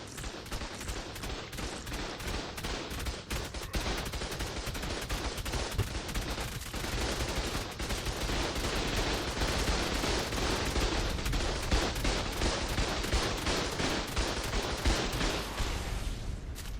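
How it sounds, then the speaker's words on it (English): Rocket launcher explosions and turret gunfire in the video game ARK: The Island, a dense continuous barrage of rapid cracking shots and blasts, loud and unbroken throughout with no talk. "went in with a rocket launcher in my hand. I blew up the turrets quite easily"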